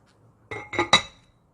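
Lid set onto a cooking pot of doenjang jjigae, three quick close clinks in succession, bright and metallic-glassy, then silence.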